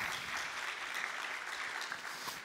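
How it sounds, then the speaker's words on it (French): Faint, distant applause from a conference audience at a regional forum on new ways of working, a steady wash of many hands clapping in a room. "Oui, vous pouvez l'applaudir."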